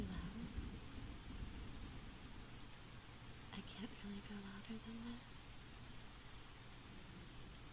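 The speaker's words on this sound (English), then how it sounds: "I want you to still hear the thunderstorm." Steady rain and thunderstorm sound effect playing quietly under a soft spoken voice in an ASMR setting, a constant hiss of rainfall with a faint low rumble throughout.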